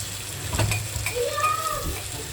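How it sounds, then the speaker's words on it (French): Chicken breasts sizzle and fry in a pan for a gratin, a steady close hiss with light stirring clinks over low background hum. "on met les blancs de poulet. Et on laisse cuire tout ça tranquillement"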